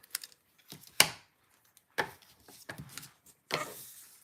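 Paper being trimmed for a handmade stamped craft card: a few crisp, sharp slicing strokes and light scraping rubs, close and fairly quiet, separated by short silences, with no talking.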